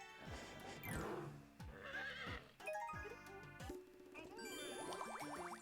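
A horse in the video game Miitopia neighs and whinnies in several rising, quavering calls, set among bright chiming jingles and tinkling game sound effects, with no talking.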